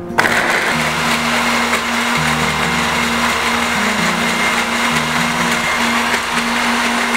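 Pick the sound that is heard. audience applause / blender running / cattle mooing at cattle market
blender running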